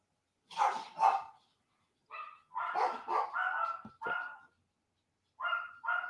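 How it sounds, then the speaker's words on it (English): A small Chihuahua barks in several short bursts, sharp yips spaced apart with brief silences between them, fairly close and loud, during a live patrol stream. "The one that just barked right now is the smallest one, the Chihuahua."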